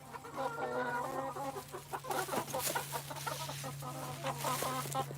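Chickens cluck and squawk in a busy, overlapping chorus close by, with a steady low hum underneath, somewhere in Helen, Georgia.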